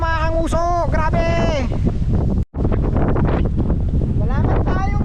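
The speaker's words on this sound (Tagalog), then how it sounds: "Lakas ang hangin" Strong wind on the summit of Mt. Batulao buffets the microphone with loud, continuous low rumbling and gusts, while voices call out and sing over it and one brief dropout cuts the sound.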